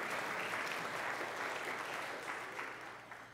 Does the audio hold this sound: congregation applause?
yes